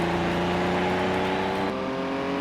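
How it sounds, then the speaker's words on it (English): BMW and Porsche Group 5 race cars circling Laguna Seca in Project Cars 2, a dense sustained engine drone with steady harmonic whine as the pack runs together, loud and continuous. "But it is all BMWs out front, first, second, third, fourth, and it's only Oz and Porsche"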